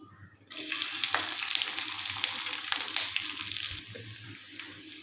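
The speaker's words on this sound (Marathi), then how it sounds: "लसूण हलकासा लाल होईपर्यंत परतून घ्यायचा आहे" Ten to fifteen chopped garlic cloves drop into hot oil with bloomed cumin for lasuni palak, setting off a sudden loud sizzle that holds for a few seconds and then settles to a quieter fry.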